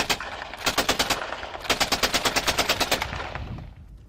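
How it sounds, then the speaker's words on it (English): Machine gun aboard Battleship Texas firing about 20 rounds in rapid bursts, loud evenly spaced shots in two strings with a brief pause between, trailing into echo. "That's what 20 rounds very quickly will do."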